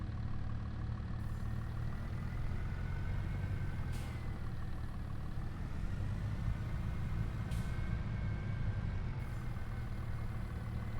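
A Massey-Ferguson tractor engine idles steadily in a farming video game, a continuous low rumble with a faint hiss, running alone and unchanged throughout.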